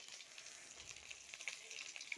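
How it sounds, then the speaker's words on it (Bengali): Rohu fish pieces frying in a pan at home, giving a steady soft sizzle with faint crackles and a couple of sharp pops, moderately quiet and close, with no talking. "এই যে ফার্স্টে আমি মাছ ভেজে নিচ্ছি"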